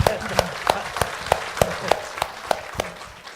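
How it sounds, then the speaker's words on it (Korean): An audience at a televised education-reform talk applauds in a steady, rhythmic unison beat, about three claps a second, with speech faintly underneath. "사실 박수 한번 치죠"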